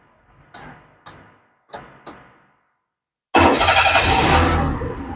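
A Perodua Viva with a starter-signal fault gives four sharp clicks at the ignition, a pause, then the engine cranks and catches, settling into a loud, steady idle close by.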